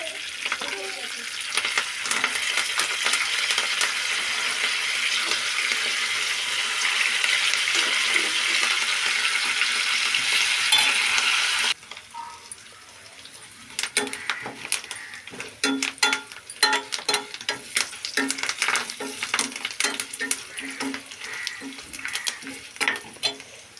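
Tempering of four dried red chillies and curry leaves in hot oil, a loud, steady sizzle for about half the time, then quieter frying with frequent scraping and stirring clatter against the pan.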